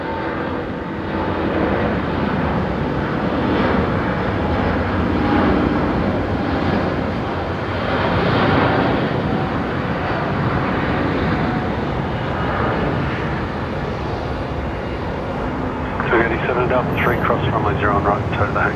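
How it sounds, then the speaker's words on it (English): An Airbus A350-900 taking off at night from Brisbane Airport makes a sustained, loud jet roar with deep rumble, steady throughout, and a voice briefly comes in near the end. "Off goes the 350-900."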